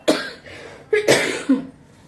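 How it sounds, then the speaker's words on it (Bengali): Two or three sharp, close coughs in quick succession, separated by short pauses. "দেখো কাশিটা এখনও কমছে না"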